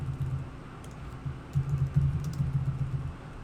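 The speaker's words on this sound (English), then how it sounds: "type in your name, type in your email, type in subject testing" Keys clatter on a computer keyboard as someone types a name, email and subject into a website contact form, with quiet irregular bursts of tapping and a denser run of keystrokes in the second half.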